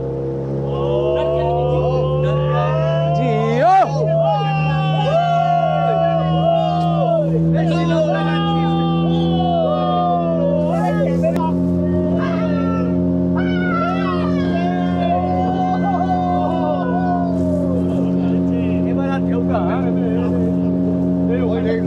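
A motorboat speeds over the sea off Dhublagadi beach in Odisha. Its loud, steady engine drone runs throughout, with voices rising and falling over it.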